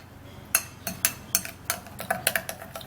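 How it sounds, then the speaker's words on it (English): A spoon stirs a mixture in a bowl, giving a run of sharp, evenly spaced clinks and scrapes close up, roughly eight strokes in quick rhythm, with no voices. "then we'll stir this all up"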